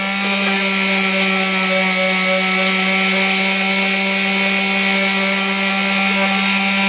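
A carbon fiber side panel has its surface roughened with a loud, steady power sanding tool that gives a continuous whine and rubbing noise without a break.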